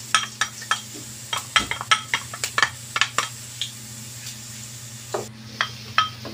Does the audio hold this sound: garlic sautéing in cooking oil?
yes